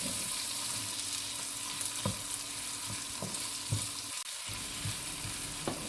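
Onion and tomato sauté in a pan for a raw banana roast, making a soft, continuous frying hiss broken by regular light scrapes and taps of a spoon stirring every half second or so.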